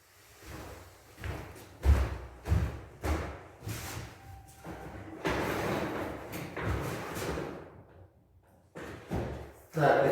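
Nails driven into an old creaky wooden floorboard during an apartment renovation: a series of loud thudding hammer blows in uneven bursts, with a sustained scraping stretch in the middle and someone talking between them.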